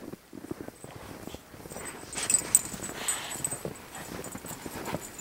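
A dog romps and runs through snow: soft, uneven paw thuds and scuffling crunches close by, with a few faint whimpers or yips mixed in, and no one talking.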